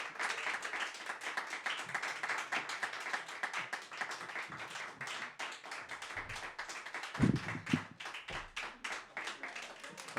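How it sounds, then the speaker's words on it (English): A live audience claps along in a steady rhythm during a concert, crisp regular hand claps filling the clip, with a few brief louder thumps partway through. "that was very awesome clapping. You guys did the clapping transition."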